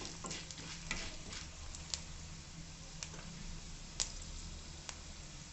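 Cumin and fenugreek seeds sizzle in hot oil in a pan, a faint, steady frying hiss with occasional small ticks and pops and no talking.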